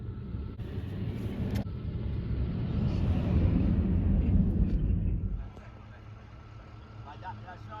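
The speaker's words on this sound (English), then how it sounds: "a log truck was coming over" A log truck with a full load approaching and passing on a dirt road in Maine's Allagash woods. A deep, swelling rumble builds to a peak and then drops away sharply, with a voice talking under it.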